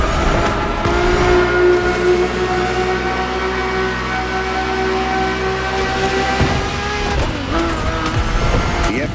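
Ferrari F50 with its normally aspirated Formula One-derived V12, driven in The Crew Motorfest video game: a loud, close engine roar holds steady revs, then drops away and shifts sharply near the end.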